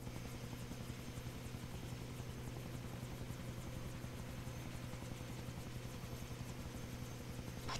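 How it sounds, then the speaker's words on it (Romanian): A helicopter in the Far Cry 3 video game, its rotor thumping in a fast, steady chop with a constant engine hum, loud and close throughout, with no voices. "Can't let them put Ollie in the chopper"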